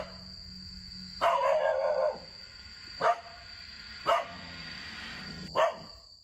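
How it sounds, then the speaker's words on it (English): A distressed dog lets out a burst of barking followed by three short, sharp barks spaced a second or so apart, over a constant high hum and low background rumble. "The dog aggressively growls and barks at something Yama can't see."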